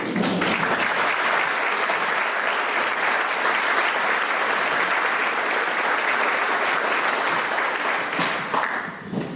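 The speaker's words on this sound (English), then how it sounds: "A round of applause for Brigadier General Cass Castelvi." Dinner audience giving a guest speaker, a brigadier general, a sustained round of applause at a Marine formal dinner, dense loud clapping that holds steady for several seconds before tapering at the end.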